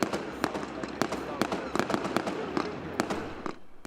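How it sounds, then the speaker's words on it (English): Fireworks go off over a burning bonfire in the Bogside area of Derry, a string of sharp cracks and bangs in irregular rapid succession, fairly close, with crowd noise and voices underneath. "Fireworks reach for the sky to mark the burning of a bonfire"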